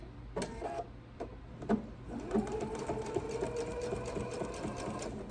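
Sewing machine stitching a Noel tree skirt slowly from the end, starting after a few soft knocks and clicks and then running as a steady, moderately loud hum.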